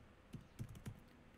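Three separate, soft key clicks on a Pomera DM250 digital typewriter keyboard, evenly spaced and faint, with no voices.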